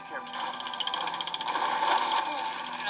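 A jackhammer in the Lego Jurassic World video game rattles in rapid, steady pulses for about three seconds, fairly loud, over a busy wash of game sound.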